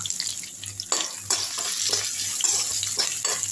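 Crushed ginger and garlic sautéing with curry leaves in a pan, a close sizzle broken by repeated scraping stirs, with a low hum running underneath.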